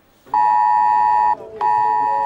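The IT-Alert public emergency warning test tone sounds loud and close: a steady electronic beep holds for about a second, drops briefly, then resumes and continues to the end.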